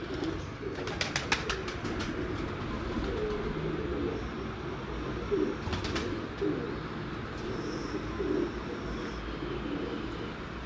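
Pigeons coo softly and steadily among a breeder's birds, a low continuous murmur of calls with a few sharper wing or perch sounds, and faint rumble beneath.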